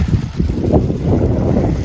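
Cool wind buffets the microphone in a steady, loud rumble with gusty low roaring and no voices.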